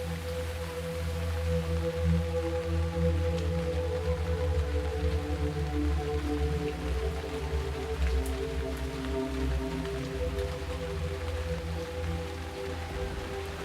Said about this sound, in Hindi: इस बारिश की आवाज को गौर से सुने।